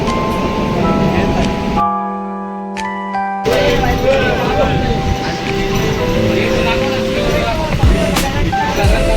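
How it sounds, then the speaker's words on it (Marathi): A train at Karjat railway station, a loud rumbling rail and platform din with sustained tonal hum and a brief drop to near quiet before the noise returns, no speech. "भेटली ट्रेन भेटली भाई."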